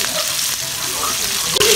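Onions sauté in hot oil in a pan as the start of adobo made with bullfrog or toad, giving a loud, close, continuous hissing sizzle with a brief stir clatter near the end.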